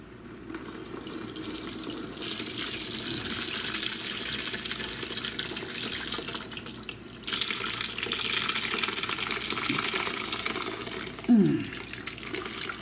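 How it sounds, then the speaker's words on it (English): Cooking liquid from a crockpot chuck roast is poured into a colander, giving a steady, close splashing gush that runs for over ten seconds with a brief louder slosh near the end. "let's pour this into a colander"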